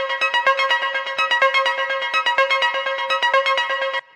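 A plain synthesizer arpeggio passes through a default-setting Valhalla Vintage plate reverb, playing a steady stream of quick, bright, regularly pulsed notes. After about four seconds it cuts off and a brief reverb wash fades out.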